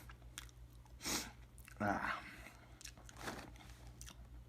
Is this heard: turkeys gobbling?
no